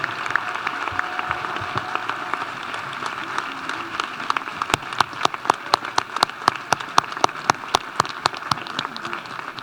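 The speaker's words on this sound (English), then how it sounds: "please give her a round of applause for the great work that she continues to do." An audience at a Black celebratory ceremony applauds, starting as scattered soft claps and building into a rhythmic run of sharp, distinct handclaps in the second half.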